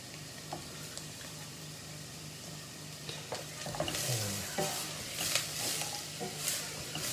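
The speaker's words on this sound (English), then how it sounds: "because they're nicely losing that, we'll pop the potatoes in" Potatoes go into a pot of softened onions for pea and ham soup, giving a soft sizzle with scattered stirring scrapes and clinks, fairly quiet and close, with no talking.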